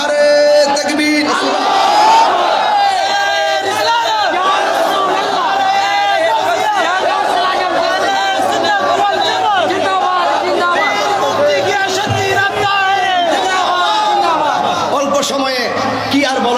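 Large crowd at an Islamic religious gathering (mahfil) in Chakaria answering a takbir call, a dense sustained roar of many voices chanting and shouting together, loud and continuous throughout with no pauses.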